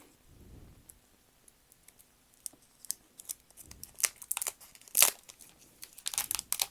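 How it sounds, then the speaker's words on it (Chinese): Protective film peeled off a new Android phone, soft crinkling and tearing with small clicks building into sharper bursts of crackle toward the end. "我们再把它的保护膜拆开。"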